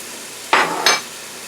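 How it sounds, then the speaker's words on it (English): Red onions go into a hot pan for a sweet bourbon chicken and vegetable stir fry, giving two short, close sizzling bursts a moment apart against a quiet background. "I'm going to add the onions"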